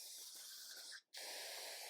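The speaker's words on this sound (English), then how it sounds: "White lithium grease that I'm going to spray right down in here" White lithium grease hisses from an aerosol can onto a Honda ATC rope rewind recoil starter, a steady spray that stops briefly partway through and then resumes.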